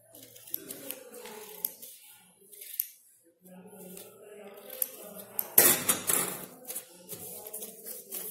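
A sheet being cut along a line, with soft scissor snips and small handling clicks, a louder crisp cutting burst toward the end, while a person talks intermittently.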